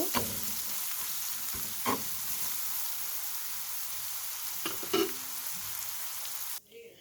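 Spices sizzling in a pan for a potato and stinging catfish (shing fish) curry, a steady close frying hiss with a few scraping stir clicks, ending abruptly.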